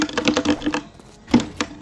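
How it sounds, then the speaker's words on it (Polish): Loud computer keyboard clattering during a Fortnite gaming session, bursts of rapid, close, sharp keystrokes with a short pause in the middle before more clicks resume. "Ale klawiatura jest chyba pewnie głośno"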